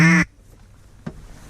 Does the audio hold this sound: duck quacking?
yes